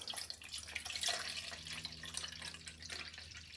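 Bottled water being poured into a measuring cup in a home kitchen, a steady close trickling splash lasting a few seconds.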